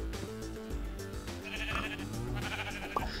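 Sheep in Minecraft bleating in repeated, wavering calls over a dense backdrop of game music, several overlapping bleats across a few seconds at moderate loudness.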